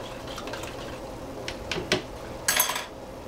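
Faint spoon clinks and light scraping against a pot or bowl as cornstarch is stirred into water, a few soft taps and a brief splashy swish, with no talking.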